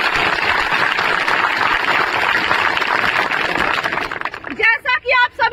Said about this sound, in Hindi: इसीलिए मैं आप सभी के लिए जोरदार ताली बजाना चाहती हूँ।